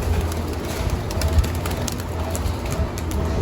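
Pigeons in a loft coo in low, repeated soft calls with occasional wing flaps, heard close and steady against a constant background noise.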